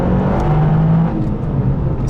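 Toyota GR Yaris engine on a track, a loud, steady drone and whir of the motor under load at close range with no pauses, continuous through the whole stretch.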